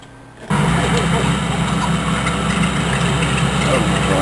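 Race car engines from the LEGO Racers 2 video game on the Dino Island track kick in after a brief quiet start, holding a steady loud droning hum from there on.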